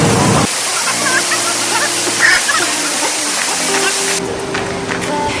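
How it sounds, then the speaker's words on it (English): Tibumana waterfall in Bali pours with a loud, steady roar of falling water heard up close, while faint voices and tonal sounds come and go beneath it. "Tibumana waterfall now"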